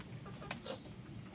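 A backyard chicken with mud-caked feet and tail clucks once or twice, a short soft call over steady low background noise.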